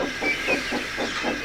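A steam locomotive puffs out of its engine shed in short, rhythmic chuffs, about four breathy bursts in quick succession. A continuous hiss of steam runs underneath and cuts off abruptly.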